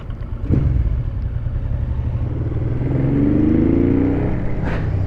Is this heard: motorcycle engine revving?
yes